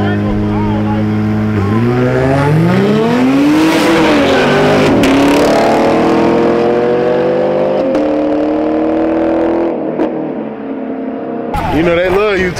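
A Camaro and a 250 race from a standing start, engines revving hard and climbing through gears for several seconds, loud and close, with people talking and shouting over the roar.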